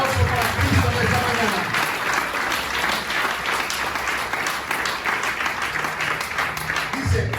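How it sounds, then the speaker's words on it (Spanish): A church congregation applauds during a Christian sermon, steady dense clapping spread across the room and sustained at an even level throughout, with a faint murmur of voices underneath. "Un aplauso para Cristo en esta"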